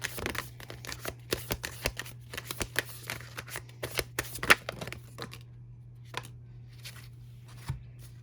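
Tarot cards shuffled and handled during a reading, giving a run of crisp riffling snaps and flutters with a few louder slaps, close and clear over a steady low hum, with no voices.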